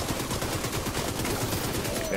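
Rapid automatic gunfire from the video game The Division 2 fills the whole short stretch with dense, loud, continuous bursts, and a voice is faintly present underneath.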